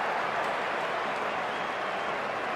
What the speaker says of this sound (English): Have to listen to the noise of that crowd.